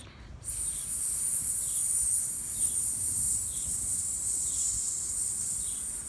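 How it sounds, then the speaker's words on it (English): Long steady hiss of an S breath pushed out between the teeth as a slow calming exhale, close and continuous for several seconds after a brief quiet start, with no talking over it. "allowing that breath to move out like an S sound"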